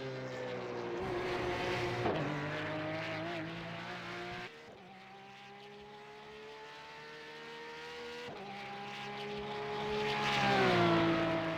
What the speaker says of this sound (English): Just watch and listen to this car from the outside.